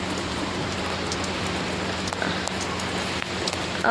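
Steady rainfall, a continuous hiss of drops pattering on surfaces, with no voices, evenly spread and moderately close.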